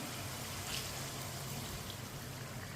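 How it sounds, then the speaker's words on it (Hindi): Steady, continuous rushing of water poured into a cooking pot of spices for chicken rice, a dense hiss with no break, moderately loud and close, with no voices. "अब इसमें पानी डाल लेंगे।"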